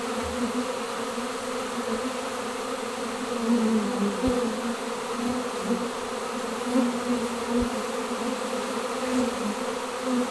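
A swarm of honey bees buzzes around a branch in a backyard, a dense, steady drone from many wings that holds for the whole stretch, with single bees passing close now and then and no voices.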